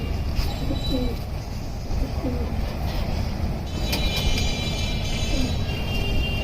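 A silver female pigeon, freshly moulted, gives a few faint, scattered coos at home, nearly swallowed by constant background hum and distant traffic-like noise.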